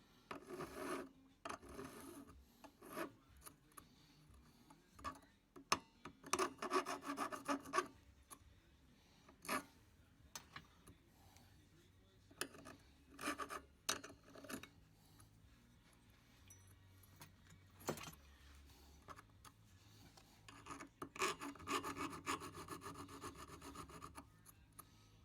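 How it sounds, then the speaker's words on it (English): A metal file rasps against a part of a Lyman Great Plains muzzleloading rifle kit, dressing and sharpening it in repeated bursts of scraping strokes with short pauses between, fairly close and moderately loud, with no talking. "I'm just going to use this file, just kind of sharpen it up and dress it up"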